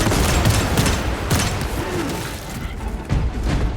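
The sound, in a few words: frag grenade explosions and gunfire, Warhammer 40k Space Marine 2 video game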